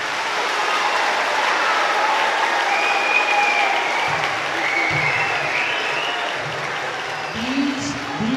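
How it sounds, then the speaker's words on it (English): An audience at a middle school spring choir concert claps for the elected class officers, a broad, steady wash of applause from a full room lasting throughout, with a few faint voices underneath toward the end. "Could you please give these elected officers a round of applause?"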